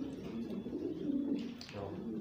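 Pigeons coo softly nearby in a loft, low throaty rolling calls repeating over a quiet background.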